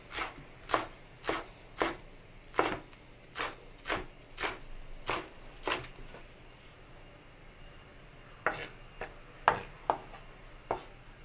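A knife slices food finely on a board for a home-cooked soup, a run of sharp, evenly spaced chops, then a short pause and a second looser burst of cuts, close and distinct with no talk.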